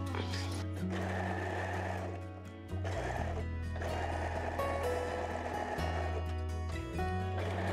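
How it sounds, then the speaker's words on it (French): A sewing machine stitches a top's seam from the sleeve hem down to the garment's bottom edge, running steadily and close with a brief pause and restarts, mechanical whirring throughout. "on va piquer du bas de la manche jusqu'en bas du vêtement"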